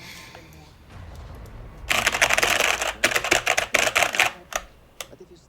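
A mechanical keyboard with Cherry switches is typed on up close, producing a dense burst of loud clacking keystrokes that starts after a quiet opening and then thins into scattered presses.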